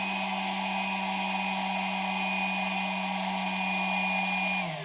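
A Milwaukee M12 compact spot blower, model 0852-20, runs with a steady, loud whirring hum, holding constant before winding down at the very end.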